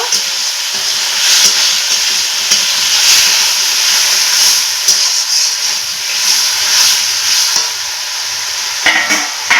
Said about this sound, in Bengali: আলুগুলো দিয়ে মশলার সঙ্গে একটু নাড়াচাড়া করে কষিয়ে নেব